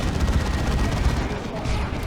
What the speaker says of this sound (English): Oh god, brutal hit from the Plasma Cannon there.